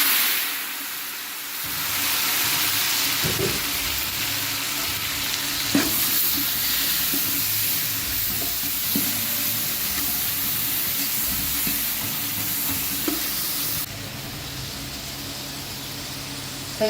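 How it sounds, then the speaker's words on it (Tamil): Small onions, tomatoes, garlic and dried red chillies sizzle and sauté in a hot pan for pepper chicken, with a steady loud frying hiss and occasional scrapes of stirring, and no voices. "இப்போ வெங்காயம் தக்காளி எல்லாமே சீக்கிரமாக வதங்குறதுக்காண்டி கல் உப்பு சேர்த்துக்கிறேன்"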